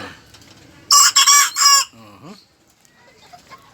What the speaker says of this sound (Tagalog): 3 months pa lang yan, tumitilaok na.